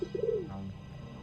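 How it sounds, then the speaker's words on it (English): Pigeon cooing in the adventure game The Darkside Detective: a few soft, low, throaty coos in quick succession, close and alone over a faint background hum. "Other pigeon noises."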